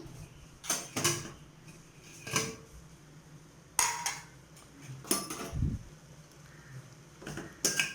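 A metal lid lifts off a pot of carrots boiled for carrot halwa on a stove turned to low, giving several sharp clanks and scrapes with quiet pauses between them, close and moderately loud.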